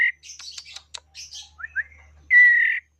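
A female spotted dove chick about eleven days old gives a run of short, high chirps and peeps, close and clear, ending in one longer drawn-out call against silence.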